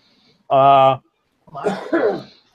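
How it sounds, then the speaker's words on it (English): A short throat-clearing cough followed by a rougher, breathy cough, close to the microphone, with nothing else around it. "Don't mean to be coughing in everybody's ear."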